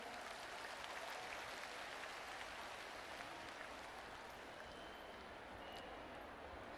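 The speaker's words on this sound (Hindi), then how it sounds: "आइए हम सब भी जोरदार तालियों के द्वारा अभिनंदन करें" An audience at a women's self-help groups conference in Karahal claps steadily throughout as a dense, even wash of applause, heard from a distance and fairly faint.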